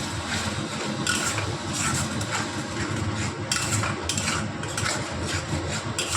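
Onions with turmeric, chili and tomato paste being stir-fried in a pan for a fish dish, a steady close sizzle with repeated scraping and clinking of a utensil against the pan, heard alone.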